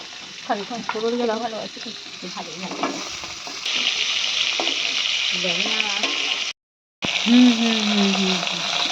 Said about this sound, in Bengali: এখন ভোলা মাছটা ভাজা হচ্ছে